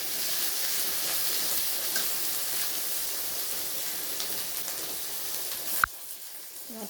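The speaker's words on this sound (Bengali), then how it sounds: "রসুনটাও দিয়ে আমি বেশ ভালো করে ভেজে নেব।" Garlic paste frying in a pan for mutton curry gives a steady, broad sizzling hiss that runs on evenly, then drops suddenly near the end after a sharp clink.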